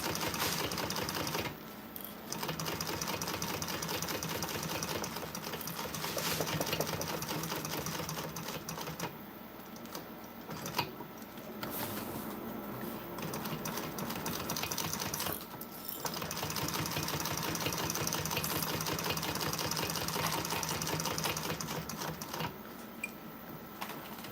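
A sewing machine stitching a Rosie Sling runs in long, fast, steady mechanical bursts close by, with brief pauses between runs and no talking over the rhythmic clatter.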